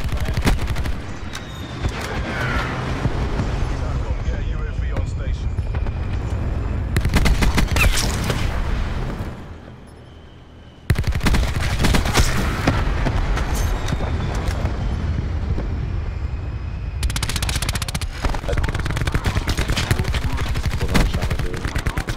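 Sustained loud gunfire and explosions from the Black Ops 4 shooter game, a dense continuous barrage that cuts out briefly, then resumes just as heavy, with little talking over it.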